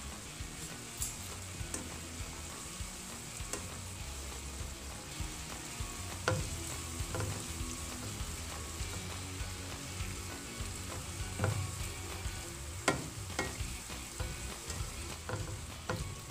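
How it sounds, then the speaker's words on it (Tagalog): Pasta with spicy tuna stirred gently in a frying pan, a soft continuous sizzle with occasional scraping clinks of the utensil, steady and moderately quiet, with no voices. "Ilagay na po yung century spicy tuna. And haluin lang din po, minimal, para hindi madurog yung pasta."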